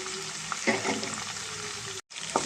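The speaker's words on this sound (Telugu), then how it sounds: "ఈ ఎండుమిర్చి ఇవి కొంచెం ఫ్రై అయ్యేదాకా మనం ఫ్రై చేసుకుందామండి" Dry red chillies and cumin seeds fry in hot oil with a steady, close sizzle and a few light stirring clicks, cut by a brief moment of silence near the end.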